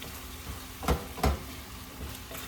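Food sizzles softly in a pan while being stirred, with two distinct scraping strokes standing out over the steady hiss.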